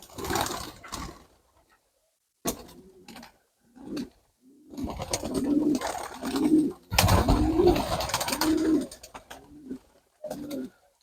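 Pigeons coo up close in bursts of low, throaty, rolling calls, with brief silences between, some calls loud and overlapping.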